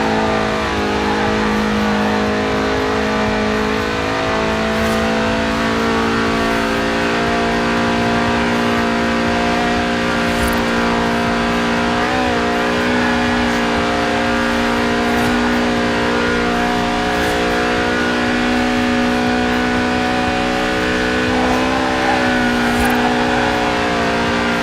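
Lotus with a 190-horsepower 1.8-litre engine revving hard toward 8,000 RPM while drifting in a racing game, a loud, continuous high-pitched engine whine that rises and falls with throttle, heard alone without voices.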